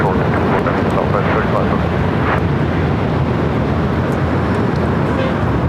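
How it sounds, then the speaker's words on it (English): Virgin Atlantic Boeing 787-9 Dreamliner taking off at LAX, bound for London Heathrow: a steady, loud, broadband jet roar holding constant throughout with no clear rise or fade. "This is Virgin Atlantic Flight 142 taking off to London Heathrow on the 787-9 Dreamliner."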